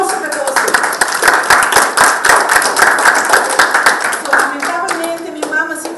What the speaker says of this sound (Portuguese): aplauso para você